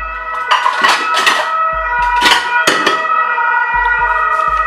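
An ambulance siren wails, rising and falling steadily, fairly loud and close, with a low droning hum underneath.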